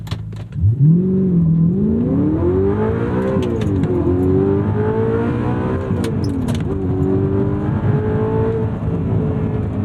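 A 2009 Audi R8 with a naturally aspirated V8 and gated manual gearbox revs hard and loud close by, the pitch climbing and dropping through several upshifts, with a brief hesitation between second and third.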